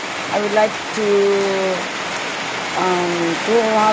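Heavy rain pouring down in Mlang, Cotabato, making a steady, dense hiss throughout while a nearby voice speaks over it.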